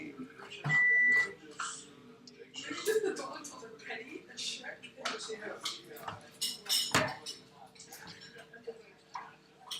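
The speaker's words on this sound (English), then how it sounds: "I'm going to let you stir the oats with the chocolate" Oats being stirred into a melted mixture of butter, cocoa powder, sugar and milk in a pot for no-bake cookies, with spoon scrapes and clinks against the pot under near, steady conversation throughout.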